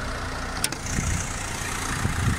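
The 1.5-litre engine of a Ford Transit Courier runs steadily at idle, heard close up as a continuous low rumble and hiss with a sharp click partway through.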